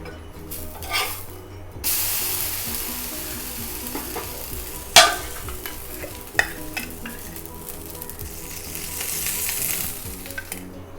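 A toor dal uttapam frying on a hot pan after being flipped, with a loud, continuous sizzle and a couple of sharp scraping knocks from the spatula.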